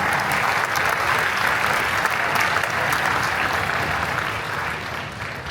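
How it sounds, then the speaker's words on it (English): Audience at a summer strings camp concert giving a round of applause, dense and even clapping from a crowd that holds steady before tapering slightly at the end. "So yes, please round of applause."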